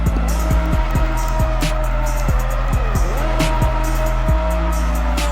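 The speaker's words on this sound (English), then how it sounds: "And now for Lucky Tito's race win victory burnout." A race car performs a victory burnout after a win at Shanghai, its engine revving hard in repeated bursts while the tires squeal continuously, loud and close.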